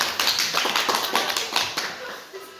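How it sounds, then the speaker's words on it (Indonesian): A group of fellow teachers gives Ibu Ketut a short round of applause, a quick burst of scattered hand claps close by, fading over a few seconds with faint voices underneath. "Tepuk tangan untuk Ibu Ketut"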